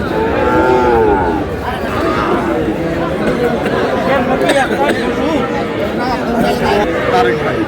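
Cattle, including Sahiwal bulls, moo repeatedly amid loud crowd chatter and hubbub at a livestock market in Narayanganj, Bangladesh, with people talking close by throughout.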